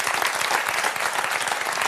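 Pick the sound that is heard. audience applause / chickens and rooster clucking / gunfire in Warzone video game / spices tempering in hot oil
audience applause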